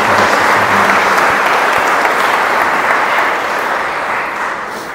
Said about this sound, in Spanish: Un aplauso de verdad para estos.